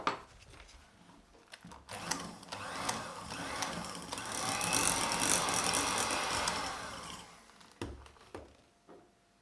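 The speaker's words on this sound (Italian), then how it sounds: "Metto un po' alla volta la panna con limone nel mascarpone e frullo per amalgamare bene" An electric hand mixer whirring as lemon-flavoured cream is beaten into mascarpone, a buzzing motor that builds and holds steady in the middle, then drops off with rattling, clattering stops near the end.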